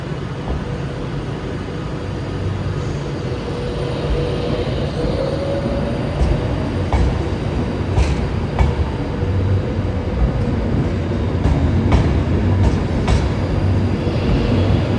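Trains at Glasgow Central station on the West Coast Main Line give a steady rumble of rolling stock, with faint wheel clatter and occasional sharp squeals or clicks rising over the continuous noise, without speech.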